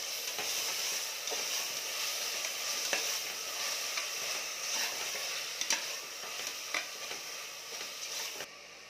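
Onions sauté in oil in a pan while making ghee rice, giving a steady, close sizzle with occasional sharp ticks and scrapes from stirring, continuous throughout with no talking.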